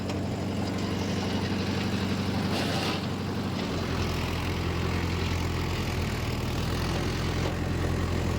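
A Mahindra Yuva Tech+ tractor pulling a 585 rotavator under load, a steady loud low engine drone with churning rumble, deepening slightly as the load settles in after a few seconds.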